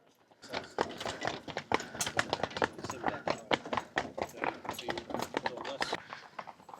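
Horse hooves clip-clop along a mountain hiking trail in the Tatra Mountains near Zakopane, Poland, a steady run of sharp knocks close by, mixed with people talking.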